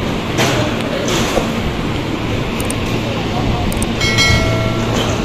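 Steady rumble and rattle of a KRL Commuter Line electric train in motion on the Rangkasbitung–Cikarang route in Indonesia, continuous and close, with a faint electric whine rising near the end.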